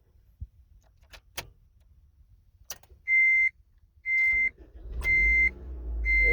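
Car ignition turned with a key: a few faint clicks, then a series of evenly spaced warning chimes, and a low engine rumble rising near the end as the motor catches.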